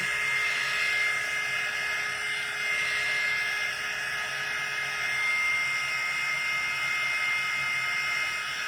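A heat gun blows hot air onto papier-mâché strawberries to dry them, a steady loud whirring roar with a high whine that holds unbroken throughout, close by and with no talking.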